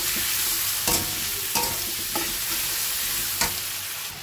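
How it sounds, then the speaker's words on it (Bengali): Potatoes and tomatoes frying in a wok give a steady close sizzle, broken by several sharp scrapes and clanks of a spatula stirring them at irregular intervals, with no voices. "আলু আর টমেটোটা আমি ভালো করে ভেজে নেব"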